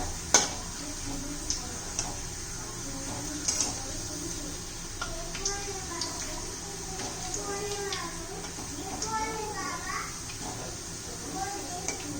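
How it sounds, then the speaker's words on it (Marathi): Raw potato wafers deep-frying in hot oil until golden brown, a steady bubbling sizzle with occasional clinks of a utensil against the pan and a few brief background voices. "छान असे खरपूस तळून घ्यायचे आपल्याला बदामी कलरवर"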